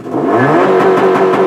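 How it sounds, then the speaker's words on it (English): Car engine revving hard at a launch with the clutch in and first gear selected, a loud rising mid-pitched roar that holds steady through a short burst, with no talking. "Clutch in, first gear, foot down."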